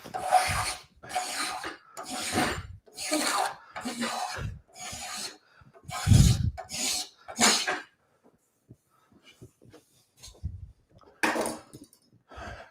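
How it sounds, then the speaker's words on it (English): A spokeshave is pulled over wood in repeated strokes, each a loud, rasping scrape lasting about half a second, coming in quick bursts with pauses between and a lone stroke after a quiet gap. "if I'm pulling the spoke shave, fingers go on those imprints in the back"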